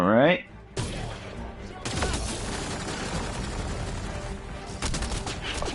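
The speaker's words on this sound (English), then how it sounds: "Oh shit, we're being shot at." Sustained gunfire in the video game Mass Effect: Andromeda, a steady barrage of shots after a brief burst of voice, continuing loud with sharper bursts near the end, a voice faintly mixed in.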